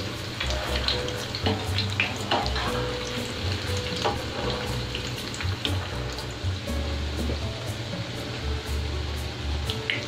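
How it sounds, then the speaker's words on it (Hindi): Beef shami kababs frying in a pan of oil, a dense, continuous crackling sizzle with sharp pops and a low bubbling bed underneath, close and fairly loud throughout with no talk. "जब ये एक साइड से फ्राई हो जाएंगे तो हम इसे पलट देंगे।"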